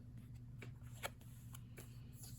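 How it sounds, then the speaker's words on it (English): Paper cards from a Burn After Writing deck are handled quickly, giving faint, close flicks and soft riffling snaps against a quiet hum. "I'm going to be going through these pretty quickly because there are a lot of cards here."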